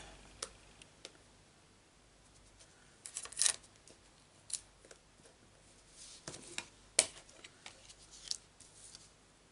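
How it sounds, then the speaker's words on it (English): Scissors snip through paper while paper-craft poppies are being cut out: quiet, irregular clicks and snips spread across the quiet room, with no talking. "Cut this in half and we'll bring in my scissors"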